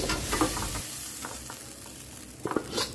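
Butter garlic prawns sizzling in a hot pan with butter just added, a steady loud frying hiss broken by a few sharper spatters and stirring scrapes near the end.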